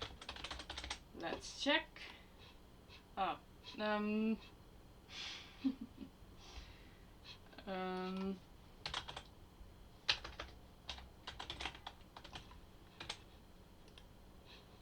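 Keys clatter on a computer keyboard as a search is entered, in short bursts between spoken phrases and breathy sounds, moderately close.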